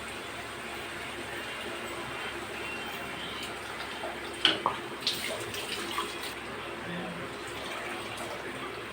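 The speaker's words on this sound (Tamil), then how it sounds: "மூணு டம்ளர் தண்ணி ஊற்றிக்கோங்க" Water poured into a clay pot of fish curry, a soft running fill with a few small splashes and clinks near the middle. It is fairly quiet, over faint background hiss, with no talking.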